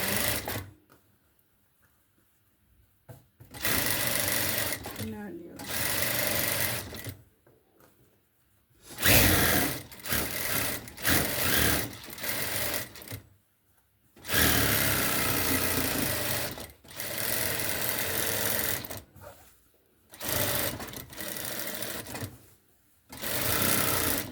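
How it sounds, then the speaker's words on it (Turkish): A sewing machine stitches along the outer edge of a nursing pillow, running in repeated loud whirring bursts of a few seconds each, separated by short silent pauses. "Dış kenarından doğru bu şekilde dikerek"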